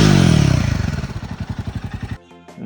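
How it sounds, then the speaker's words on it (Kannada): Royal Enfield Himalayan 452 motorcycle exhaust, revving loudly close up and then settling into a rapid rhythmic thumping idle that falls back, ending in a short quieter stretch with a few dull knocks. "ಸೈಲೆನ್ಸರ್ ಬಗ್ಗೆ ಮಾತಾಡೋದಾದರೆ ನೋಡಿಬಿಡಿ ಒಂದ್ಸಲಿ, ನಿಮಗೆ ಆ್ಯಕ್ಚುಲಿ ಸೌಂಡ್ ಕೇಳಿಸ್ಬಿಡ್ತೀನಿ"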